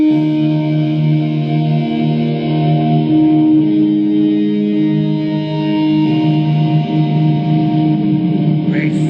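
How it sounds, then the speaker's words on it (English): Sustained guitar chords drenched in a big, cavernous reverb, the notes ringing and smearing together into a long, echoing wash that changes pitch a few times, played alone with no talking. "I added a big cavernous reverb on top of it."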